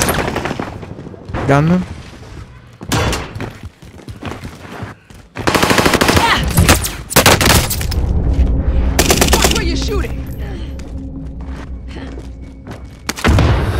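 Call of Duty Modern Warfare gunfire, loud machine-gun bursts and heavy thumping shots in rapid rattling volleys, interspersed with booms and brief pauses, while a player speaks between bursts.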